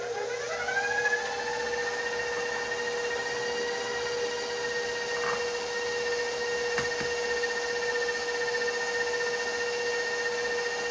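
Electric mixer beating cheesecake batter as eggs are added, a steady continuous whirring drone that holds at even loudness throughout, close by with no talking.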